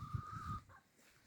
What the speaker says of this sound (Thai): ไก่ก็ออกมาเดินเต็มเลย กลุ่มนี้สีขาว